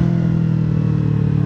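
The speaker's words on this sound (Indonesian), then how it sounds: "suara mesin jadi lebih halus." A motorcycle engine running on Liqui Moly oil holds a steady, smooth mid-pitched hum with a faint fine clatter, loud and close throughout with no voices.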